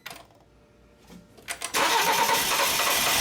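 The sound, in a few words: BMW X3 engine cranking and trying to start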